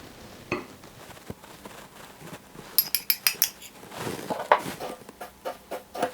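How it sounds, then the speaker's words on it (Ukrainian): Flour and sugar mixed together in a separate bowl for a Kyiv cake, with soft clinks and scrapes of a utensil against the dish in short bursts, close and fairly quiet. "змішуємо в іншій ємності борошно та цукор, який у нас залишився"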